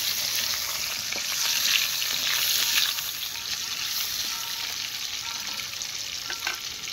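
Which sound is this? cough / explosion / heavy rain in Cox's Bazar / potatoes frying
potatoes frying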